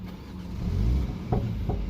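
A 2020 MINI John Cooper Works Countryman ALL4 (F60) engine starts with a push-button start, cranking briefly and catching into a low rumble followed by a couple of short crackles as it settles into idle.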